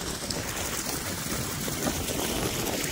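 Irrigation water from an electric motor pump flows into a farm field as a steady, soft rushing wash with no pauses.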